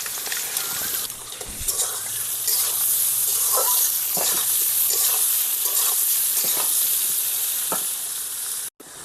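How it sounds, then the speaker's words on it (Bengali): Jackfruit pieces fry in a pan with a little salt, giving a steady, close sizzle broken by frequent stirring scrapes and short bursts of crackling throughout. "এঁচড়টাকে দিয়ে দিচ্ছি, এঁচড়টা ভালো করে ভেজে নেব।"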